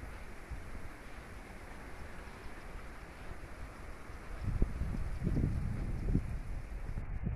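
Wind rushes steadily against the microphone, with low buffeting gusts swelling stronger toward the end.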